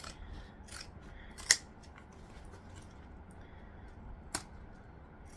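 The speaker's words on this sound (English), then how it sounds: "I'm going to take my zigzag scissors again and just cut off the excess" Zigzag scissors cut off excess lining fabric with two crisp, separate snips, one sharp and close, the other lighter, over a quiet room hush.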